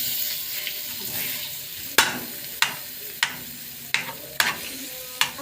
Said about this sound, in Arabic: دي قطعه جبنه قريش بتنزل بقى هنا على السمنه